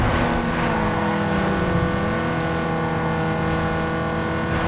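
A small Peugeot GTI races in Need For Speed Underground 2, its game engine holding a loud, steady drone with a brief dip in pitch partway through, alone without talk.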